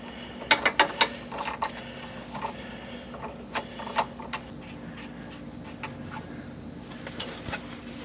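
Ratchet clicks in short bursts while a rear shock bolt is worked loose under a 2007 Jeep JK, sharp metallic ticks near the start, then scattered single clicks against a steady low hum.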